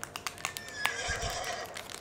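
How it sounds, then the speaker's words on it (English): In the Roblox Piggy video game, a horse lets out a single clear whinny that rises and trails off, with faint clicking taps around it. "What was that horse sound?"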